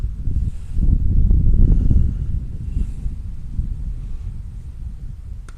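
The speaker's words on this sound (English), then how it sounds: "So windy." Strong wind buffets the microphone at an outdoor field hockey match, a loud low rumble that swells over the first two seconds and then keeps gusting steadily.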